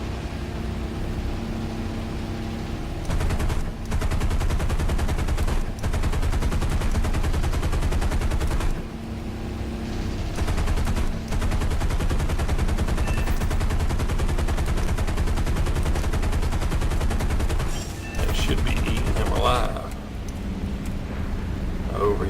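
Machine guns of an F4U-1 Corsair fighter in War Thunder fire in long sustained bursts over a steady engine drone, with brief pauses between volleys and a speaking voice now and then.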